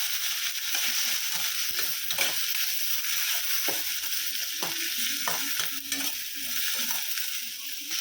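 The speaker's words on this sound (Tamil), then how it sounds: "பூண்டு, பச்சை மிளகாய் போட்டுக்கலாம். தக்காளி நல்லா வதக்கி விடணும்." Tomatoes with garlic and green chili sautéing in a pan for a Ramnad-style kalani thanni kuzhambu, a steady close sizzle with scraping stirs throughout and no talking.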